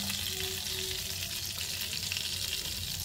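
Garlic cloves fry with wet carom (vamu) leaves in a pan, giving a loud, continuous sizzle and crackle that runs steadily throughout with no pauses.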